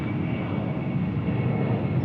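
A FedEx heavy jet departing Memphis International Airport gives a steady, loud engine roar with a deep low-frequency rumble and no talk over it.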